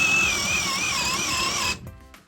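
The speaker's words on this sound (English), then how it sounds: "The Ryobi HP hammer drill. 4 amp hour edge battery. 1 1/2 inch ordnance paddle bit." A Ryobi HP hammer drill on a 4 amp hour battery bores with a 1 1/2 inch paddle bit, giving a loud, steady high-pitched whine that wavers slightly under load for nearly two seconds before abruptly stopping.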